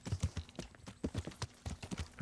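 Horse hooves clip-clop in quick, steady rhythm in the medieval video game Kingdom Come: Deliverance, close and clear, with no talk over them.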